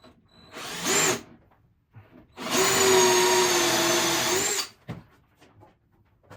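A drill bit bores into the wooden octagonal lower stretcher of a ladderback chair, with a short first burst followed by a louder, sustained whine of about two seconds that stops abruptly, all close and without speech.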